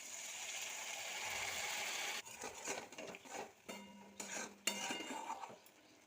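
A utensil stirs spiced chana dal masala in a pan, giving close, intermittent scraping and clinking strokes with short pauses between them.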